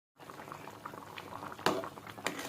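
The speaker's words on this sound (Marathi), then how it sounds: "इथे शेवगा आणि बटाट्याची भाजी शिजतीये" A pot of drumstick and potato curry in a ground masala paste bubbles on the stove, a soft steady simmer with sharper pops and splutters now and then, heard alone and fairly quiet.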